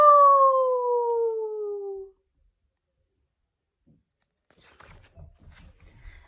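A person's voice imitates a coyote howl, one long falling cry that stops sharply, followed by silence and faint rustling.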